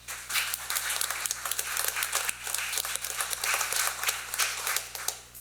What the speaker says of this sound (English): Would y'all give him a round of applause?